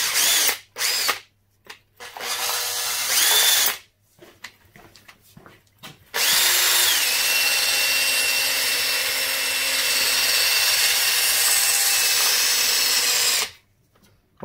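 A power wire brush scrubs rust off a Suzuki DR200 motorcycle rear wheel hub in several bursts: short spins with abrupt stops, then a long, loud, continuous whirring grind before cutting off.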